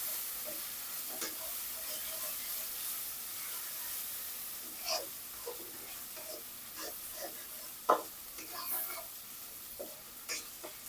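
Onions fry in a pan with a soft, low sizzle, and occasional stirring scrapes break through now and then, one louder than the rest.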